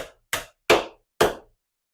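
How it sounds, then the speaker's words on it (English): A Warrington hammer drives a nail into wood with three sharp, ringing strikes spaced about half a second apart, close and loud, with silence between the blows. "Then you can take your Warrington hammer and finish it all the way down."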